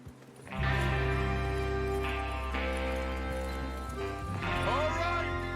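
Horses in Red Dead Redemption 2 set off together for a train robbery, with hoofbeats and clip-clop under a loud, continuous game soundtrack of sustained music throughout.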